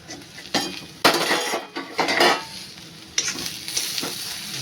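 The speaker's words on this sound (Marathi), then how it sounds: "मी आता झाकण उघडून बघते." A metal lid comes off a pot of Takla wild greens frying in a tempering, with a sharp clank. Several scraping, clinking stirs follow over a sizzling background.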